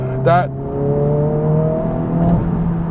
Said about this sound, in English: The 2-liter turbocharged engine, it is so sweet.